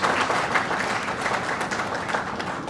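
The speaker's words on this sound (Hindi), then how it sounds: "तालियों के साथ उनका अभिनंदन करें आप सभी" Steady audience applause filling a hall at a silver jubilee celebration for knee replacement surgery, as doctors are welcomed onto the stage; dense, continuous clapping without pause.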